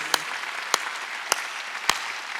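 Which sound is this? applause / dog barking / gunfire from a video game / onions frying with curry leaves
applause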